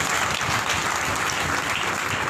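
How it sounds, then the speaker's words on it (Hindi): Applause from a church congregation during a live daily prayer service: steady, dense clapping filling the whole stretch at moderate loudness, with no voices over it. "जोरदार तालियां बजाएं अगर बजाने हो"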